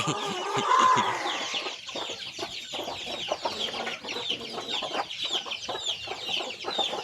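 Burmese chickens about twelve to thirteen months old, kept in a breeding pen, cluck and chatter continuously nearby. A louder call rises near the start over steady background clucking.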